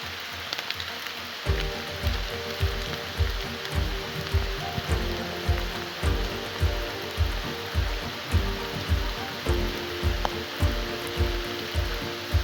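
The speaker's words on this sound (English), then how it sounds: "we woke up to the sound of rain on the tents" Steady rain patters on campsite tent fabric with a broad hiss, while a regular low thumping repeats about every half second beneath it.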